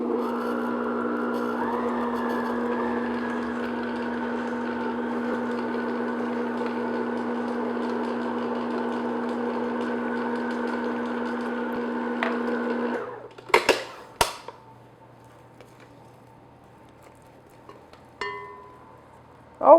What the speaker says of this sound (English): have your mixer on low speed